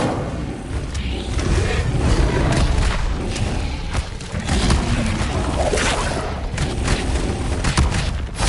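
Fire spell casting in Hogwarts Legacy: a loud, sustained roaring whoosh of flames with booming bursts throughout, close and continuous with no speech.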